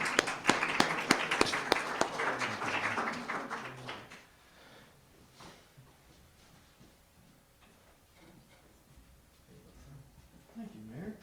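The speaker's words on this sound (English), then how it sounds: "Let's give them a round of applause." A crowd at a mayor's press briefing claps loudly for award recipients for about four seconds, with sharp individual claps standing out. Then it fades into quiet room tone with faint talk.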